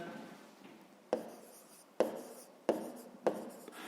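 A pen writes on paper during a fifth-grade math exercise, making quiet scratching strokes broken by four distinct taps or strokes spaced about a second apart, close and isolated.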